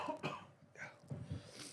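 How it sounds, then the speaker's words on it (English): A person coughs repeatedly in a persistent fit, with several harsh coughs and throat clearing in close succession, heard fairly near. "This is the cough that never ends."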